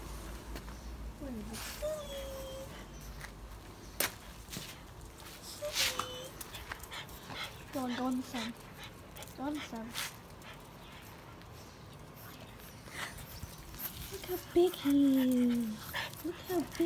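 Dogs whimper and whine in short, high-pitched yelps scattered through the scene, faint to moderately close, with people talking over and between the sounds.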